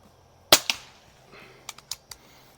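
AMT Lightning air pistol fired at a target from 50 feet: one loud, sharp crack with a quick follow-on snap, then a quieter pause and four fainter, close-spaced clicks.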